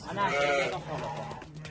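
Sheep of a Hissar and Dorper breed bleat at a livestock market, with one clear wavering bleat close by followed by fainter animal sounds.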